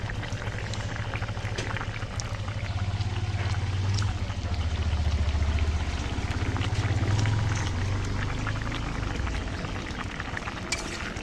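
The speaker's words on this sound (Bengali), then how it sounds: "ভালো করে মিশিয়ে নিচ্ছি।" Bottle gourd and puti fish curry, sweetened with a spoon of jaggery, is stirred and mixed in a pan, giving steady bubbling and wet scraping that swells and fades over several seconds with no talk.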